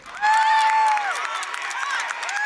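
A baseball crowd cheering and whooping at a night game, a loud burst of shrill voices and whistles that swells quickly and carries on steadily.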